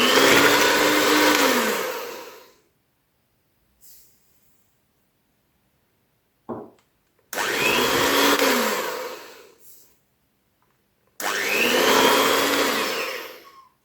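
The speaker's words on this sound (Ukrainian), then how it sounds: "До яєць поступово всипаємо 200 г цукру. І збиваємо." An electric hand mixer whips four eggs with 200 g of sugar for a chocolate nut-honey cake batter, running in three loud, steady whirring bursts separated by quiet gaps and a short clunk.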